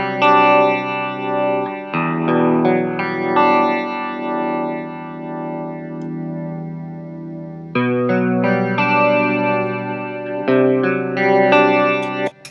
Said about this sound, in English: Now we have our minimum speed at 1 hertz, which is 1 cycle per second. So let's just listen to that.